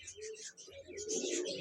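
Pigeons coo softly in a low, throaty rolling call, with faint chirps and twittering layered above, all quiet and close over about a second and a half.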